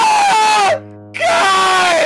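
A robot lets out two loud, harsh screams separated by a brief lower drone, each cry long, strained and close, with no talking.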